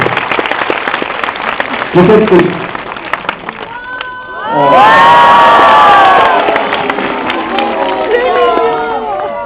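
A crowd at a French stand-up comedy preview show applauds and cheers loudly, with shouts and a swell of voices in the middle, while people talk over it.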